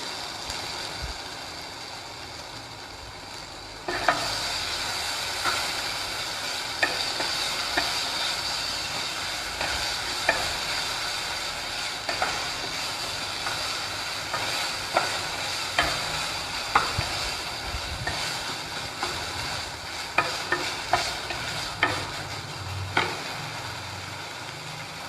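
Spices roasting in a pan while being stirred, a steady sizzle that grows louder after a few seconds, broken by repeated scraping strokes of a utensil against the pan.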